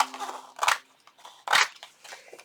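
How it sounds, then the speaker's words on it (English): Scissors cutting through a small fabric-covered junk journal, two distinct crunching snips close up with soft rustling between them. "I am going to cut this right in half"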